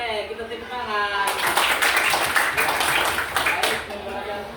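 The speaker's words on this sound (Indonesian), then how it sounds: "Oke, kita tepuk tangan." A class of children in a Christian religion lesson claps hands together, a burst of quick, close claps that starts after a moment of talk and continues to the end.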